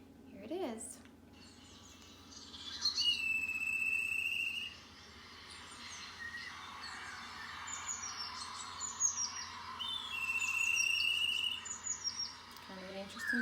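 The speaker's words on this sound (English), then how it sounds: "a fascinating shrill cry that ends with an extended warbling effect that varies considerably in speed and intensity" Black kite's shrill whistling cries with long warbling trills varying in speed and intensity, moderately distant over faint outdoor background, repeated a couple of times, with no talking.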